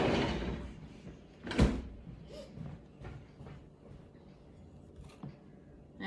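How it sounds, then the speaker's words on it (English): An indoor door is pushed shut with one sharp thud about halfway through, surrounded by quieter shuffling and light knocks. "I'm gonna shut the door."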